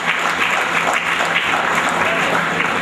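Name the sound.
audience applause for champions on stage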